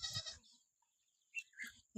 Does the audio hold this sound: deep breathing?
no